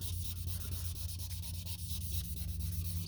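Wet sanding of deep scratches in black car paint during a paint correction makes a steady, close, rhythmic scrubbing rasp with a low hum underneath, no talking.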